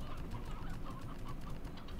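Chickens in the video game Slime Rancher cluck softly and keep at it against a dense, rumbling game background, with the clucks fairly faint throughout.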